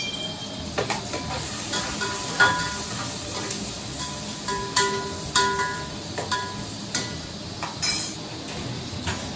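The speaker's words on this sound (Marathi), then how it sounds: "तेल आपला तापलेलं आहे. आता त्याच्यामध्ये कांदा" Chopped onion dropped into heated oil in a home kitchen pan, giving a steady close sizzle with brief clinks of a utensil against the pot as it is stirred.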